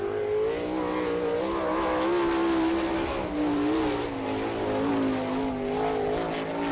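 Race car number 92 from Fremont, the Steinberg Dome Racing Machine, runs a qualifying lap at Attica in an All Star Circuit of Champions event, its engine droning loud and steady with rising and falling pitch as it circles the track.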